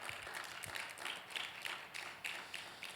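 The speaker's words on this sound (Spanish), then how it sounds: "¿Cuánto le pueden dar un fuerte aplauso al Señor" A church congregation claps during a service, a soft, distant patter of many hands that flickers on steadily at low volume.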